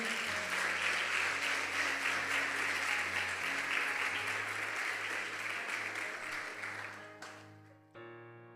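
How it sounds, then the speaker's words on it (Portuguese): A church congregation applauds in a dense, sustained burst of clapping over a steady keyboard chord, fading out near the end as the music shifts to a softer note. "Aplauda Jesus novamente."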